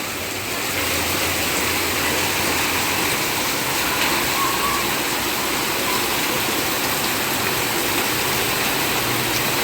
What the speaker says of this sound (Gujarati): જો કેવો વરસાદ પડે છે.